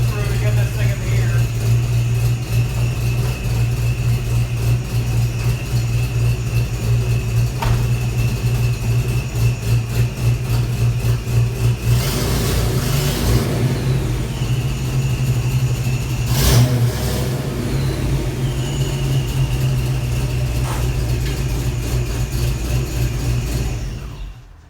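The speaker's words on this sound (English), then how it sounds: "we're gonna try and get this up on ramps so you guys can see what I have to go through to get this thing in the air" A 1994–2004 Ford Mustang SN95 Cobra runs steadily with a constant engine drone as it is driven up onto ramps, revving slightly midway, the engine loud and close throughout with a person talking over it.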